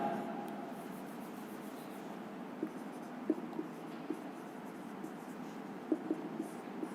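Quiet scratching and light tapping of a pen or chalk writing out the chemical formula for glucose, with soft irregular strokes over a faint room background.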